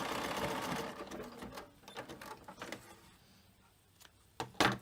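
A sewing machine zigzag stitches across a frame bag, a close whirring burst that fades into scattered clicks and handling noise before a final sharp knock.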